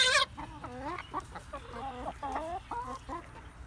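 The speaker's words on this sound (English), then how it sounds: "There's that big rooster." A big rooster and a flock of chickens cluck in a rapid run of short, rising calls, close by and fairly clear over a low background hum.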